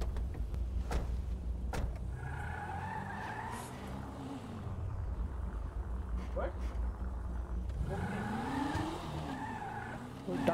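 A car drives in a GTA roleplay game, with a steady engine drone and repeated tire squeals while turning, under ongoing talk.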